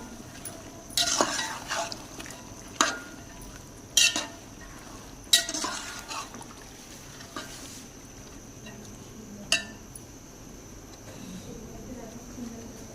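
A spoon stirs and scrapes in a pot of boiled black chickpeas being sautéed, giving a few sharp clinks among soft sizzling and shuffling, with faint background murmur.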